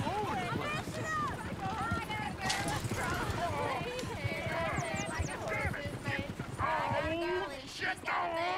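Hooves of a horse-drawn coach clip-clop in the Red Dead Redemption 2 game world, a steady trotting rhythm running beneath busy crowd chatter and voices in a town setting.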